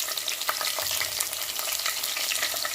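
Green chilies crackle and spit in hot oil, a close, dense sizzle with rapid sharp pops throughout the short stretch.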